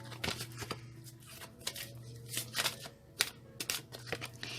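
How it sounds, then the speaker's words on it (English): A deck of tarot cards is shuffled in quick bursts of crisp riffling and tapping, soft and close, with irregular pauses between the flurries. "One more shuffle, they say."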